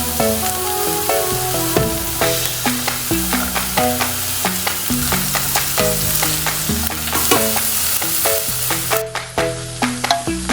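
Carrots fry in a pan for a weight-loss biryani, giving a loud, continuous sizzle broken by frequent rhythmic scrapes and knocks of a stirring spoon against the pan.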